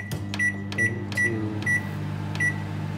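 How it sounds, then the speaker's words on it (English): A microwave oven hums steadily at close range while a run of five short, evenly spaced beeps sounds over the hum. "put it on the microwave, and we need to set it up"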